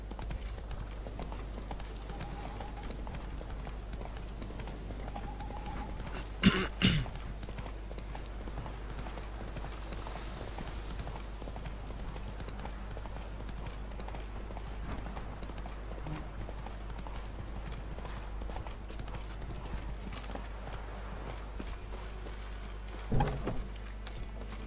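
The horse Roach trotting in The Witcher 3, a steady rhythmic clip-clop of hooves running throughout, moderately close, with a couple of brief louder thumps along the way and no talking.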